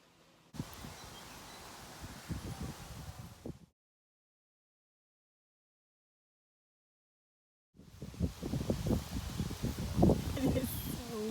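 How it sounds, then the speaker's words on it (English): Strong wind rushes through rustling leaves outdoors on a windy day, loud and gusty in two long stretches split by a few seconds of total silence. "It is so windy."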